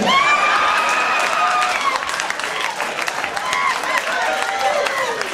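A comedy club audience claps and cheers in a dense, sustained burst of applause, with scattered whoops and shouting voices mixed into the crowd noise.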